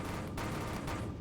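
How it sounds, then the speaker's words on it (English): Dense, continuous burst of rapid video game gunfire with sharp crackling shots layered over a heavy low rumble, loud and close throughout. "the gunshots are way more harder and like way more damaging with this one"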